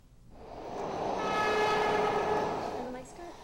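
A Broad Street subway train in Philadelphia rumbles and swells in loudness as it passes, with steady rolling noise and a sustained horn-like tonal whine over it.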